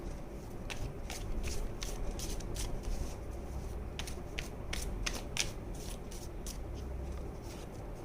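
Tarot cards being shuffled during a card reading, a run of crisp papery riffles and flicks repeating through the clip over a steady low background hum, close and moderately quiet.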